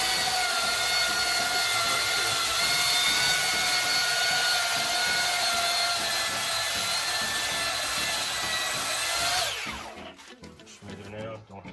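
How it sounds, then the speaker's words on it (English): A cordless belt sander works scrap wood for a blanket ladder with a steady, loud whining drone and dense high hiss, running continuously for about nine seconds before spinning down and stopping, followed by a few faint handling knocks. "I'm using a cordless belt sander to try and smooth out some of the raw, rough parts."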